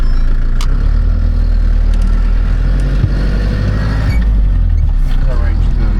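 A 4WD vehicle's engine rumbles steadily in low range while the truck crawls along a rough bush track, a loud, continuous low drone heard from inside the cab.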